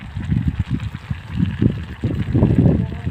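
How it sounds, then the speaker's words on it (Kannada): Water is poured into a cooking pot of tomato saaru, a loud, close gurgling splash that surges and ebbs for about three seconds with no talking. "ಇನ್ನಷ್ಟು ನೀರು ಹಾಕ್ಬೇಕು ಮಾಡೀವಿ"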